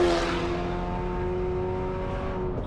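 A race car engine in a racing game holds full throttle, a steady harmonic drone with slowly shifting pitch that stays loud and continuous with no talk.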